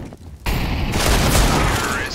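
Dense gunfire from a Counter-Strike round on the Inferno map, a sudden burst of overlapping shots that carries on steadily, loud and close, with voices talking over it.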